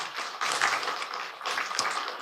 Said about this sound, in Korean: 우리 중고등부 회장님께 박수 한번 보낼까요?